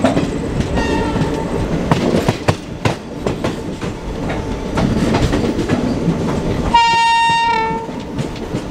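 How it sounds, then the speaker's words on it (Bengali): Kanyakumari Express pulling out of Valliyur station: steady rumble and clatter of rolling carriages with sharp wheel clanks, then a loud, sustained horn blast near the end, close by. "এই দেখো ট্রেন ছেড়ে দিয়েছে ভাল্লিউর স্টেশন থেকে"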